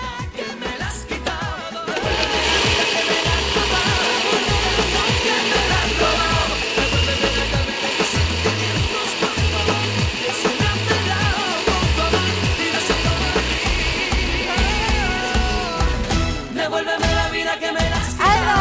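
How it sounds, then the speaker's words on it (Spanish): A kitchen blender grinds a thick mixture for humitas, giving a loud continuous whirring drone that runs steadily for most of the clip, its pitch shifting slightly as the load changes. "Ahora vamos a ayudar a la licuadora para que pueda"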